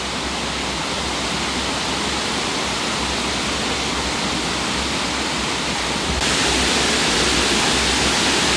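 Lampi Waterfall in rainy season roars as a loud, unbroken rush of falling water, a dense, steady wash that fills the whole stretch with no voices.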